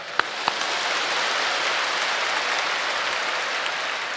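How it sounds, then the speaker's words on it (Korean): Dense, steady applause from a large church congregation fills the space, a continuous wash of clapping with a couple of sharper claps near the start. "크게 한번 박수하십시다."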